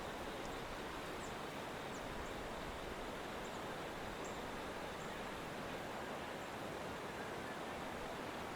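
Whitewater rushes in a river far below, heard as a faint, constant hiss of moving water from a distance, steady and unbroken, with no voices over it.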